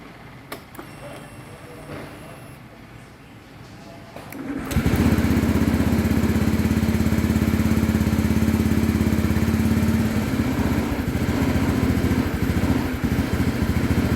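A motorcycle engine with PGM-FI fuel injection starts after a few seconds of quiet workshop sounds, then idles loudly and steadily with a low, even putter before easing slightly near the end.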